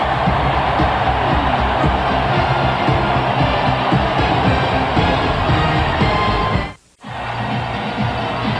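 A record crowd at Lambeau Field roars in a continuous, loud wash of cheering during a Packers playoff game against the 49ers, with a brief drop near the end before the noise resumes.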